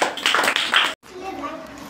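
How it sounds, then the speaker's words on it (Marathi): Children in a third-grade class clap their hands together in a brief, lively burst that cuts off abruptly, followed by quieter voices talking. "खूप छान टाळ्या वाजवा रे."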